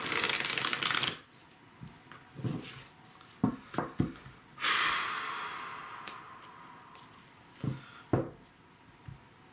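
Tarot cards shuffled by hand, with a long riffling burst at the start, scattered soft taps and flicks, and another extended riffle midway, close and fairly quiet.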